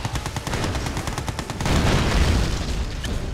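Rapid, continuous gunfire and booming blasts from units in the strategy game Yuri's Revenge, loud and dense throughout, with a heavier rumbling burst in the second half.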